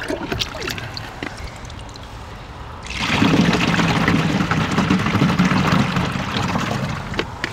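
Liquid horse manure runoff is tipped out of a container and pours as a steady splashing stream after a quieter opening. The sound is close and moderately loud, with no voices.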